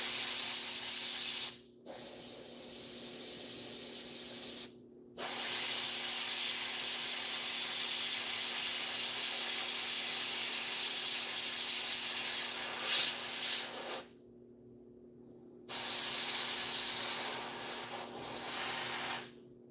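Airbrush spraying paint onto model DAK tanks, a steady close hiss in long bursts broken by short pauses, with no voices.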